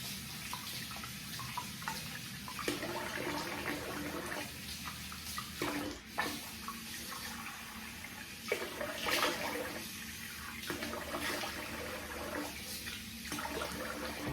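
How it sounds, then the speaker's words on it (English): Water from a running tap splashes steadily in a bathroom sink as a face is rinsed after a shave, close by. Repeated louder splashes and cupped-hand sloshes rise over the continuous flow, and no one talks. "I'm gonna rinse the face"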